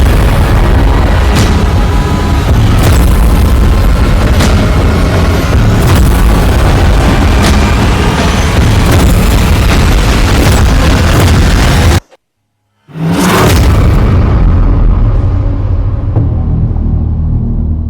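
Air strikes on an underground Hezbollah command centre send out loud, dense, continuous rumbling blasts and booms. They cut to silence for a moment and then resume as a heavy roar.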